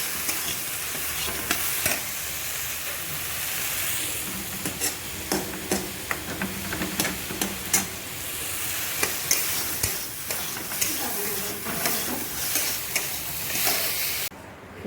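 Chana dal cooks in a frying pan with a little water added, giving a steady, close sizzle under repeated sharp scrapes and clicks of stirring that run throughout without a pause.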